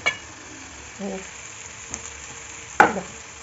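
Chicken masala frying in a pan gives a soft, low sizzle while a spoon stirs and scrapes, with a couple of short clinks and one sharp metallic tap of a utensil against the pan.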